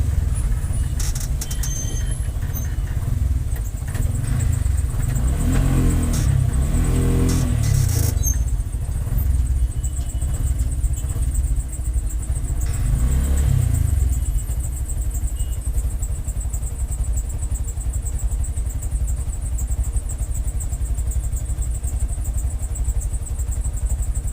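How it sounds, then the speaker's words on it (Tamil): Heavy Chennai road traffic at the Kasi Theatre signal, with cars and motorcycles passing, a dense continuous engine rumble with a couple of louder passing vehicles up close. "எவ்வளோ டிராஃபிக் இருக்கு பாருங்கள்."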